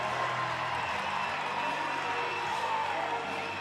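Crowd noise at an NMSU vs UTEP college volleyball semifinal: a steady, loud roar of cheering and applause fills the arena without pause, sounding close and enveloping.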